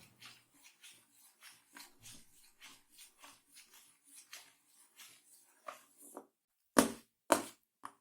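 Steady rhythmic scraping of a spoon stirring a vegan sausage mixture with agar-agar in a pot, repeated strokes close up, ending with a couple of louder knocks.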